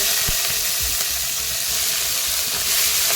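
Crushed garlic cloves and finely chopped fenugreek leaves fry in a pan for methi paratha, a loud, continuous close sizzle with occasional low knocks from stirring.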